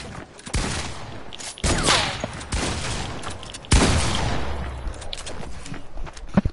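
Video game gunfire in rapid bursts and volleys, loud and sharp, with a few separate heavy shots standing out over a busy battle background.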